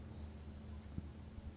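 Crickets on an Indonesian cricket farm, kept among egg trays, sing a steady, high continuous trill with faint scattered soft knocks beneath and no talking.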